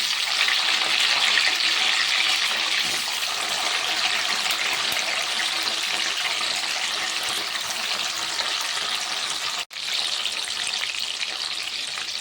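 Curry leaves, shallots and whole garlic cloves sauté in oil over a flame for a Tamil kara kuzhambu, giving a steady close, loud sizzle that runs unbroken apart from one brief dropout near the end.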